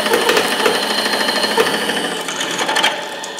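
Drill bit boring slowly through titanium on a lathe, a steady close mechanical whir with a fast chattering buzz and small bumps, no voices.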